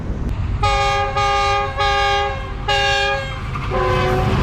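The Islamabad Express sounds its horn on arrival at Lala Musa station: four long, loud blasts and a fifth after a short pause, over the steady rumble of the moving train.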